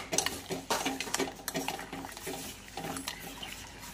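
Spoon stirring an almond milk drink in a metal pot or cup, producing a quick, irregular series of light clinks and scrapes close up, with soft liquid swishing between strikes.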